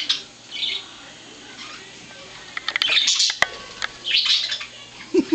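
Several birds squawk and chirp in short bright bursts, some close and sharp, over a steady low hum, with a few clicks and taps mixed in.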